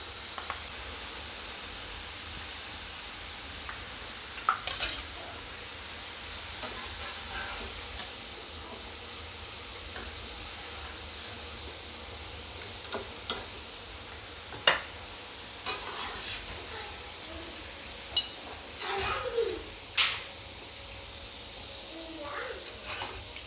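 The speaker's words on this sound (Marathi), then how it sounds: "त्यामुळे अगदी हाय फ्लेमवर याला आपण तळलं ना तर हे लगेच होतात." Thin potato slices deep-fry in hot oil over a high flame, giving a steady soft sizzle and hiss with occasional stirring clinks and scrapes; fairly quiet and continuous, without talking.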